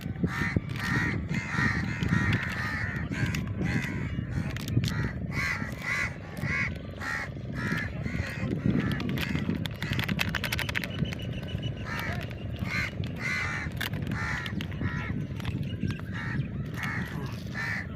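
Crows caw continually and fairly close during an outdoor fish-frying outing near Kalpakkam, with harsh calls repeating over a busy, noisy background and no talking.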